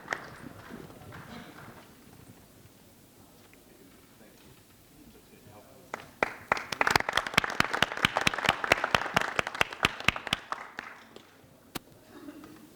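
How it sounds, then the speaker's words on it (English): Audience applause for the lightning talk speakers at a DevOps leadership panel, a burst of fairly close, moderately loud clapping that starts after several seconds of quiet room murmur and dies away again. "Let's have a big round of applause, ladies and gentlemen."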